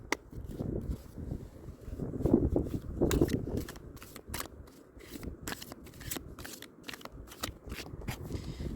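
Oracle cards shuffled by hand in a seaside setting, a steady run of soft riffling and crisp flicking close by, with faint crackles and no talk.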